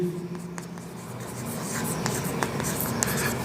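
Handwriting in a classroom-style grammar lesson, a pen or marker scratching out words in short, quick strokes, close up over a low room background.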